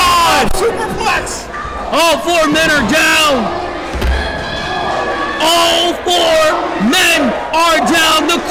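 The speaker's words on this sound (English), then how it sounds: "The crowd is going crazy!" A wrestling crowd at a no-DQ independent show roars and screams wildly after a superplex, a loud sustained wall of cheering with a commentator shouting excitedly over it.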